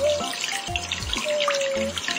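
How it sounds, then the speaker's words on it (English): Running water in a pet care game for a puppy's shower, a steady wash of spray over cartoonish game music and chimes, with no one talking. "Shower time."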